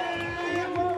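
Crowd cheering at a downhill mountain bike race in Cairns, a continuous roar of voices beneath a loud announcer talking over it.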